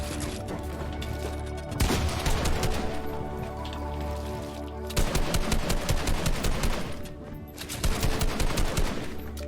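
Assault rifle fire in the Fortnite video game, repeated rapid bursts of close, sharp shots in rhythmic clusters over a dense layer of game sound and music.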